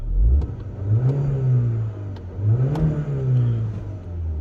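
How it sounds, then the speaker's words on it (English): A 2012 Mini Cooper Coupe's 1.6-litre 122bhp petrol engine is blipped twice from idle, each rev rising sharply then falling back, close and clear with no talking. "I'll give it a quick rev for you so you can hear the engine"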